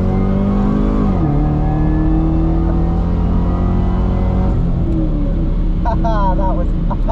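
Nitro-fueled drag race car launching at full throttle, a loud, close, roaring engine climbing in pitch, easing briefly, then pulling hard again, with voices over the din.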